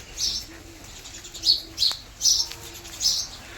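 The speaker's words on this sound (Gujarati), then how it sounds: "કબૂતર પણ અહીંયા આવીને બેસી ગયા છે બધે" Pigeons settled around a cattle shed coo softly and low while sharper bird chirps ring out in several short, loud bursts nearby.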